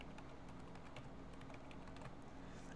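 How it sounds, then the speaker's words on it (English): Someone types on a computer keyboard, producing a steady run of close, crisp key clicks at an uneven pace with no talking. "now I can start typing"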